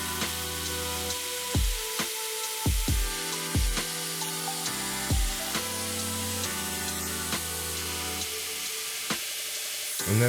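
A belt grinder runs steadily while a knife blade's bevels are ground for a Bowie knife, making a continuous hum with a hissing grind. The abrasive contact swells and drops repeatedly as the blade is pressed and lifted.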